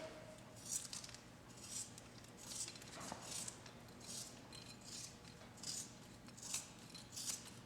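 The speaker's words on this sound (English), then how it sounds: "you're going to use scissors to cut the cast off" Scissors cut off a child's cast with quiet, rhythmic snips roughly every half second, close up, with no talking.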